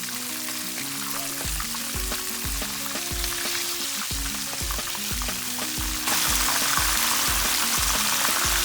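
Lobster tails fry in hot oil in a pan over a medium flame with a continuous sizzle, backed by a steady musical tune; the crackling grows louder near the end.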